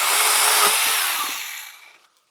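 An Atlas 80V cordless pole saw buzzes steadily as it cuts through tree branches about 1.5 to 2 inches thick, a loud continuous motor whine that fades out as the cut finishes.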